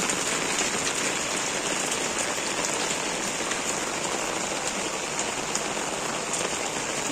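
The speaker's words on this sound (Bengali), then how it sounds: "সুন্দর বৃষ্টি।" Steady rain falls on surfaces, a dense, even hiss of raindrops with scattered pattering that continues without pause and with no voices.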